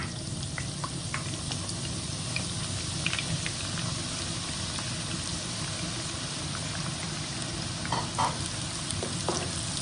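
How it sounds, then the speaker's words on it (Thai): Continuous crackling sizzle of sliced shallots frying in hot oil, steady and close, with occasional faint clinks of stirring. "เปิดเตาใส่น้ำมันลงไป พอร้อนได้ที่ นำหอมแดงซอย ใส่ลงไปค่ะ"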